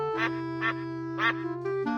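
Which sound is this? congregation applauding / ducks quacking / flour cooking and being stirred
ducks quacking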